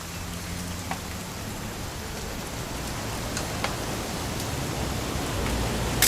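Continuous rain in the video game What Remains of Edith Finch, a dense, unbroken hiss of drops on surfaces with occasional distinct splats, steady and fairly loud throughout.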